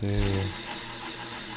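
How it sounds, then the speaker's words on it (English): A sewing machine stitching runs as a steady, close mechanical whir after a person briefly speaks at the start. "is the sewing sound too loud?"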